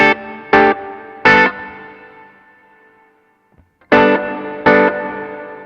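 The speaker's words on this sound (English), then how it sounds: "we're going to roll that up, get a little bit more of the reverb sound" An electric guitar runs through an Alabs Cetus reverb pedal, playing four loud strummed chords in two pairs, each followed by a long reverb tail that fades toward silence before the next pair.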